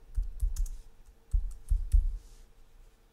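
Computer mouse clicks while building a website layout, a few sharp clicks in two short clusters separated by a pause, close and fairly loud with no talking.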